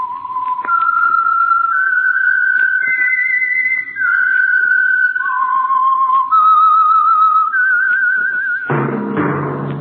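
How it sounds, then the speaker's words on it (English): A melodic whistled tune opening the radio program The Whistler, a rising and falling sequence of sustained clear notes, loud and close, ending in a burst of sound. "That whistle is your signal for the Signal Oil Program"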